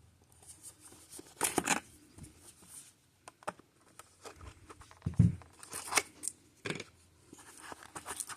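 Swisstech Helfen multi-tool packaging being opened, with scattered crinkly tearing and crunching bursts of plastic and card, moderately close, separated by short quiet gaps and no talk.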